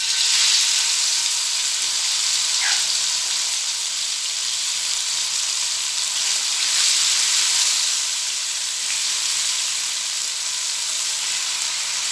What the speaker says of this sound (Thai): พอน้ำมันร้อนเราก็จะใส่ ที่เราผัด ที่เราตำเมื่อกี้ลงไปผัดค่ะ